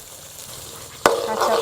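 Spice paste with lemongrass, kaffir lime leaves, tamarind water, squid soy sauce and oyster sauce fries in oil in a wok for Thai-style chicken, a quiet sizzle that jumps to a loud, crackling hiss after a sharp hit.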